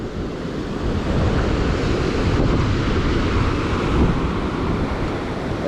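Strong wind buffets the microphone outdoors after a bike ride, giving a loud, continuous roaring rush with no voices.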